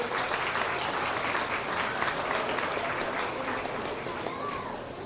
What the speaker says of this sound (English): give a round of applause to these exhibitors